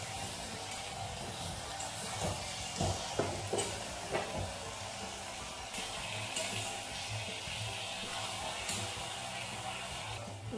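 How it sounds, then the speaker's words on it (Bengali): Malabar spinach leaves with mustard paste, coriander paste and spices sauté in a pan, giving a faint, even sizzle with occasional soft stirring knocks and no talk. "মশলা আর সমস্ত পাতাগুলোকে কিছুক্ষণ ভালো করে কষিয়ে নিচ্ছি।"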